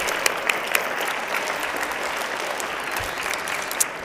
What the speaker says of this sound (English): So let's give everybody a big round of applause.